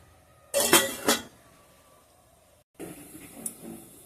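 A lid set onto a pan of spinach boiling with sugar gives a couple of quick close metallic clinks and rattles, followed after a pause by a softer clatter, with no talking.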